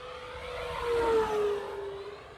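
The electric motor of an E-flite 1.5 m model warplane whines steadily at high pitch at full throttle, rising and then easing slightly as it passes nearby, with a constant buzzing drone throughout.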